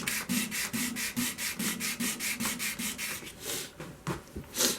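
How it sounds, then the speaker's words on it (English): Sandpaper rubs across a maple vase spinning on a woodturning lathe in quick, regular strokes, close and steady with no talk. "I'm going to finish sanding with the grain"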